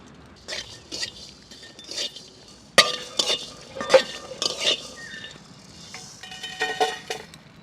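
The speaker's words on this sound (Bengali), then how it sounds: "এবার একটু মশলা ভেজে নেবো শুকনো খোলায়। এখানে ধনে, জিরে আর কয়েকোয়া রসুন একটু নেড়ে নেবো।" Coriander, cumin and garlic stirred in a dry pan, the spoon clinking and scraping against the metal in scattered bursts, some sharp knocks standing out, over a quiet background without talk.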